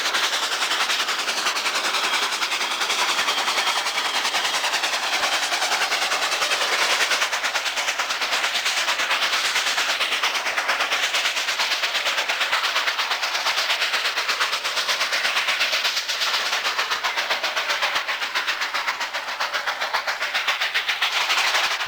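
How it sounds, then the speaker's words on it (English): A 1925 Baldwin 2-8-2 steam locomotive blasts out of town under heavy load, its exhaust chuffing in a rapid, continuous roar as the train runs past, loud and close throughout, with wheels clattering on the rails. "The 1925 Baldwin 282 blasts out of town as it returns east."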